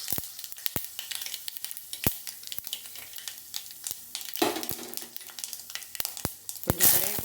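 Cumin seeds sizzle in hot oil during tempering after chana dal and mustard seeds go in, a steady close frying hiss broken by sharp crackles and pops, with a brief louder burst near the end.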